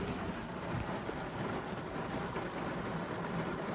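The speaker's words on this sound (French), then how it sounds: "Je sais pas si vous entendez la pluie," Steady rain in Bourail, New Caledonia patters and hisses continuously on a surface, fairly faint, with no voices.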